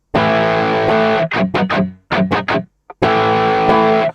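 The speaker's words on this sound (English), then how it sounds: "I have a Les Paul standard, a Gibson Les Paul standard that I'm using to record this guitar track" A clean Gibson Les Paul Standard electric guitar rings out with sustained chords, broken by a few short strummed stabs, then a final held chord, dry and close with no reverb or delay.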